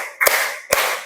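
Two crisp hand claps about half a second apart from a counted clapping game, loud and close over a faint background hiss, no voices.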